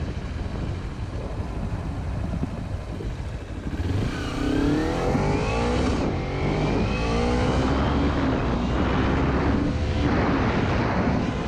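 A 2011 Kawasaki Ninja 250R sports motorcycle ridden past, its engine revving up in rising sweeps, loud and close, after a few seconds of steady rumble.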